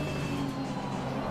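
A GT race car in Assetto Corsa Competizione, at a GT World Challenge event, drones past at speed, a brief, loud, continuous engine roar.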